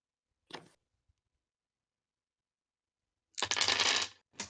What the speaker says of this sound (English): one of my dice fell off the table